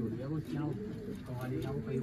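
Pigeons at a pigeon keeper's loft cooing in repeated low, throaty rolls, close and fairly loud, with voices talking over them.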